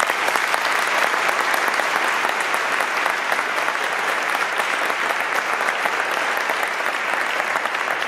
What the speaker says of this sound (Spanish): Me gustaría pediros un fuerte aplauso para ellos.